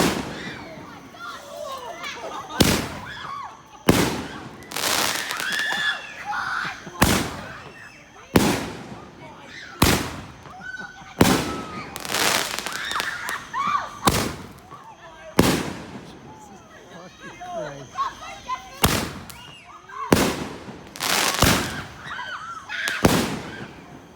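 A consumer firework called Breathing Fire goes off at a home sleepover, with a rapid series of loud, close bangs and crackles spaced a second or so apart over a hissing, sputtering burn while children talk and shout around it.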